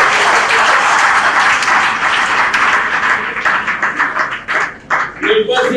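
Conference audience applauding after a talk at an event on girls in science and technical fields, a loud, steady burst of clapping that thins toward the end as voices begin.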